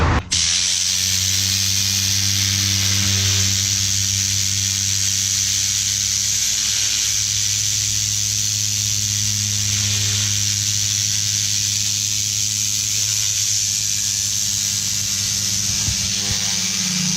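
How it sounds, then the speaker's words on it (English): Compressed air blasts steadily from a detailing tool's nozzle inside a Tesla, a loud continuous hiss with a low droning undertone lasting throughout. "That tool spins around air really fast out of the nozzle, which just beats out any kind of dirt or sand or pet hair"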